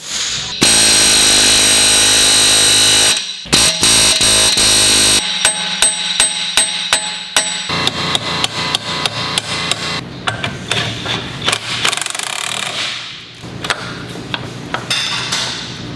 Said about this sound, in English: an air hammer.